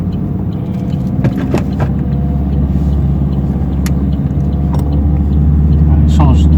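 A car engine rumbles and builds steadily while accelerating during a driving lesson, with a low continuous drone loud in the cabin and voices talking over it.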